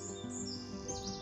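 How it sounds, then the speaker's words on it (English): Birdsong in Hillsborough Forest, a few faint high chirps and tweets scattered over a steady low background hum, distant and soft throughout. "Love bird song in a forest."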